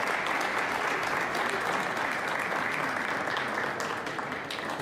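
Crowd at a pool championship match in the European Open cheering and applauding loudly and steadily throughout, a dense continuous roar of claps and voices filling the room.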